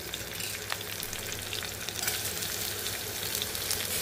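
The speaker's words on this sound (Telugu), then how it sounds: "ఇప్పుడు ఉల్లిపాయలు కూడా వేసేసుకుందామండి." Onions frying with a dried red chilli in a pan for an egg and dried fish curry, a steady loud sizzle with occasional stirring scrapes, close and continuous with no talking.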